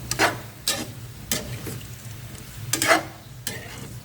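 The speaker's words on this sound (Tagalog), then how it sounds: "Halukayin na natin ang halukayin to. Kumapit yung lasa ng mga sangkap" Frog dish stirred in a frying pan, with bursts of scraping and stirring over a steady low sizzle, four or five strokes in quick uneven succession, close up.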